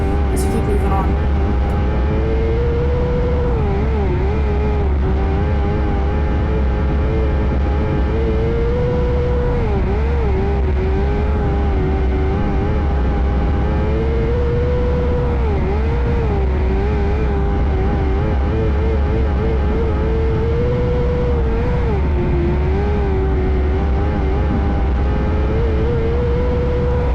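Stock race cars on track at Clyde Martin Memorial Speedway, a continuous loud engine drone with wavering pitch as revs rise and dip down the front straight, with a voice talking over it.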